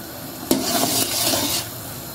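Sugar syrup cooking in a pan for alsi ki pinniyan, stirred with a short scrape at the start, then a steady bubbling sizzle under continuous stirring for a couple of seconds before it eases off.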